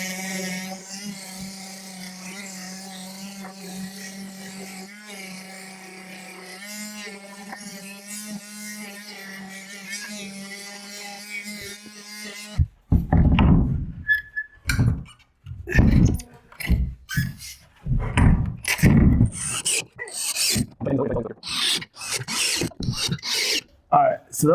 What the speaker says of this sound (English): So I got my handy sander here, and we're just going to get after this.